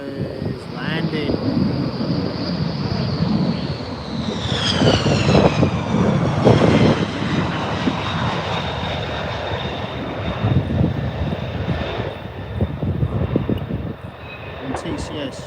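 A fixed-wing aircraft lands at RAF Lakenheath, a loud jet engine roar with a whining tone sweeping down as it passes, heavy wind buffeting the microphone throughout and people talking nearby.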